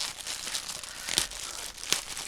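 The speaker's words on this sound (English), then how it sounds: "I don't know where they get their tissue paper, but I'm always so gentle when I take it apart" Tissue paper from a clothing order being gently unwrapped, a steady soft crinkling close by with a few sharper rustles and crackles, and no talking.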